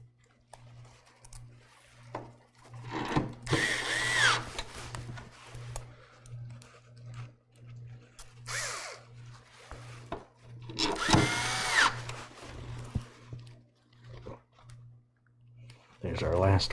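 Screws being driven into a PC case with a power driver: two separate short whirring bursts, close, between quiet clicks and handling noise, with a steady low hum underneath.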